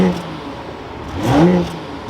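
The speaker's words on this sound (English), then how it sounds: "let's start this back up, take a listen to how this X6 sounds" A 2025 BMW X6 xDrive40i engine starting up, a whirring crank followed by a rising flare of revs that settles back toward idle, heard fairly close and loud.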